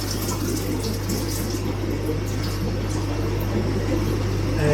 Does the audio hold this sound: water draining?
yes